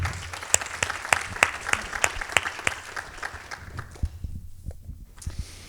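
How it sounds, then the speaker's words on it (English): Nonprofit awards audience gives a brief round of applause, sparse to moderate clapping with distinct individual hand claps, tapering off after about four seconds into near quiet. "let's just give them a quick round of applause"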